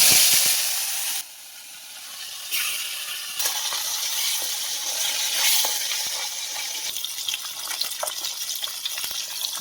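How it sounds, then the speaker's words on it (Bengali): Koi fish frying in hot oil give off a loud, steady crackling sizzle that drops briefly, then returns and continues with small pops scattered through it. "কই মাছগুলো ভেজে নেব।"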